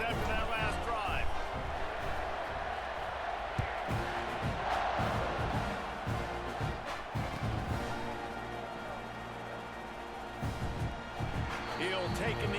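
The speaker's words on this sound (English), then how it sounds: "this crowd is feeling themselves after that last drive." A stadium crowd roars and cheers during a game of EA Sports College Football 26, a broad swell of noise with thumps and slams mixed in, running under commentary throughout.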